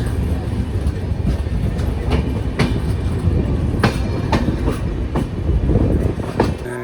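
The Darjeeling Mail passenger train runs along the line, heard from onboard as a steady loud rumble with regular clicking wheel beats over rail joints and faint squeals.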